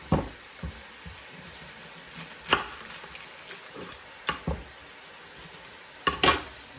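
A small onion hits a hot pan for an enchilada casserole, giving a low background sizzle broken by several sharp clacks and scrapes of utensils at irregular moments, with no talking.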